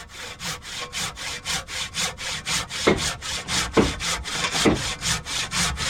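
A freshly sharpened hand saw cuts through wood in steady, rhythmic back-and-forth strokes, close and clear, with a few heavier strokes partway through and no talk.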